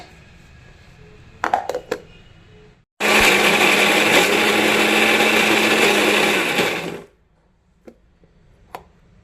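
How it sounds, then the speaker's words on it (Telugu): A mixer grinder grinds tomato pickle in one loud, steady whirring burst of about four seconds, preceded by a few clicks and knocks and followed by quiet handling sounds. "మొత్తం 2 ట్రిప్పులు అవుతుందండి మిక్సీ పట్టుకోవాలి."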